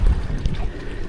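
Strong wind buffets the microphone, a continuous low roaring rumble with no voices.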